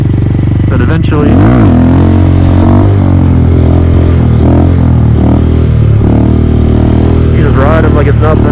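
Honda Grom motorcycle engine during wheelie practice, a loud close buzzing drone that swells and dips with throttle changes, including a sharp rev near the start, with a voice talking over it.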